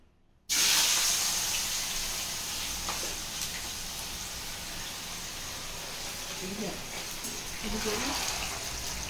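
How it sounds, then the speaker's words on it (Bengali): Thin potato slices for homemade chips dropped into hot oil, setting off a sudden loud, steady sizzling hiss that holds close and continuous, with a faint voice speaking in the background. "এইবারে আমি আলুটা ভাজছি।"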